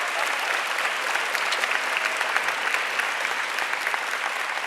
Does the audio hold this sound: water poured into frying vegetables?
no